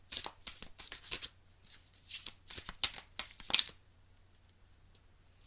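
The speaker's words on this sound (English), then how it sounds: "it's the best way to get these shuffled because they are a new deck" Crisp bursts of shuffling a new deck of cards, a rapid series of riffles and flutters, close and fairly loud, then quiet.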